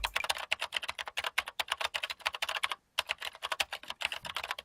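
A computer keyboard clatters with rapid, irregular keystrokes, close and crisp, broken by a brief pause.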